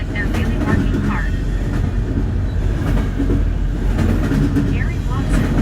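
Freight train locomotives working hard under load at a Texas rail line, a loud continuous rumbling drone with rail clatter throughout, with people talking over it.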